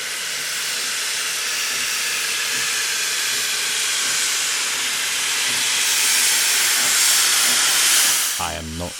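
A GWR steam locomotive departs with a loud, steady steam hiss that swells slightly and holds nearby, then cuts to a brief rhythmic chuffing near the end.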